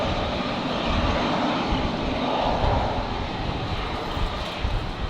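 A steady, full-bodied jet roar from an airliner taking off from runway 19 left at Brisbane Airport on a windy day holds across the whole stretch, with a slight swell in the middle and no voices.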